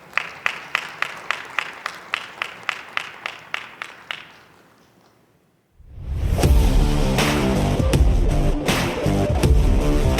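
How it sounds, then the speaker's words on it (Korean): Audience clapping in a steady, even rhythm at the 41st Disabled Persons' Day commemoration ceremony, fading out after about four seconds into a brief silence before loud dance music starts. "큰 박수로 모시겠습니다"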